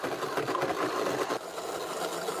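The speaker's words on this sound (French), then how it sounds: "j'utilise un fromage danois maturé, 6 œufs cuits, des œufs mollets, un peu de jus de citron pressé. Nous allons mixer tout ça." A blender whirs steadily as it purees aged Danish cheese, soft-boiled eggs and squeezed lemon juice into an emulsion, a continuous close motor drone with slight pitch wobble and no talking.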